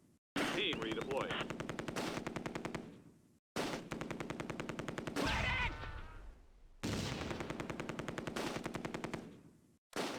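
Heavy machine gun fire in the World War II strategy game Close Combat: A Bridge Too Far, three long loud sustained bursts of rapid shots separated by brief silent gaps.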